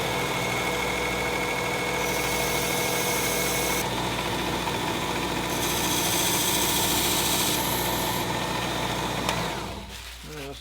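Steady close whir of a Work Sharp Ken Onion belt sander running at low speed for knife sharpening, a continuous motor drone with abrasive hiss as a blade meets the belt, cutting off near the end.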